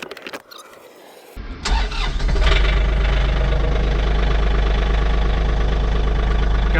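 A John Deere 3046R tractor with a Yanmar diesel engine cranks briefly and catches, then settles into a loud, steady, knocking idle close by.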